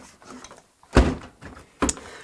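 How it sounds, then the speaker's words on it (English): Front-loading washing machine door being opened and shut: two solid, close thunks about a second apart over a quiet room, with faint handling noise in between. "you open the door on the front, you stuff the item in question"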